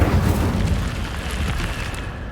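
The Incendio fire spell in the Hogwarts Legacy video game sets off a loud whooshing roar of flame, a single broad burst that fades gradually over about two seconds.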